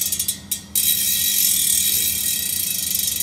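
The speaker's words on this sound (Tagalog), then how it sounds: "Yan yung tunog ng hub niya." A Light Pro bicycle hub ratchet clicks in a quick, close burst as the wheel is spun, then settles into a steady, loud freewheel whir with no voices.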